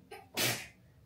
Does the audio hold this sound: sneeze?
yes